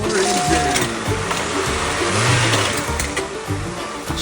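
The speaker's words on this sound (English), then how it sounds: "Racer, start your engine." A race car engine starts and revs at a toy-style Talladega race event, a loud continuous mechanical whir with rising and falling revs and a bright buzzing edge throughout the short stretch.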